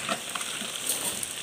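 Pak choi stalks and cabbage stir-frying in a wok give a brief burst of lively sizzling and crackling, close and fairly quiet, with small scrapes of stirring.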